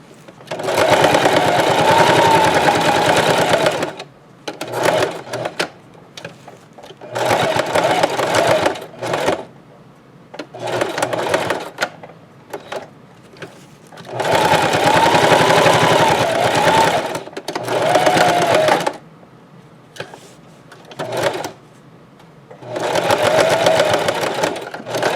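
A sewing machine runs a straight stitch across a Dollar Tree potholder in several loud bursts of steady whirring, each lasting a few seconds, separated by short pauses and brief stop-start runs.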